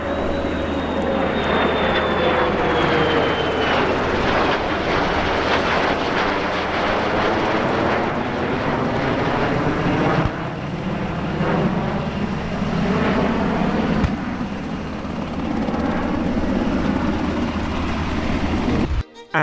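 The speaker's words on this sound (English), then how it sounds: "a mock aerial refuelling demonstration involving a KC-135" Military aircraft flying a mock aerial refuelling demonstration with a KC-135 at an airshow, a continuous loud jet roar that swells and recedes across the sky, with no talk over it.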